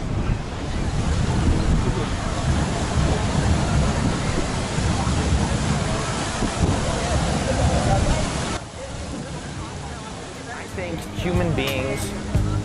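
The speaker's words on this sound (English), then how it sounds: "The wind doesn't like me talking about that." Wind buffets a microphone outdoors in Trafalgar Square, a loud, rumbling roar for most of the time that drops suddenly near the end to quieter crowd babble.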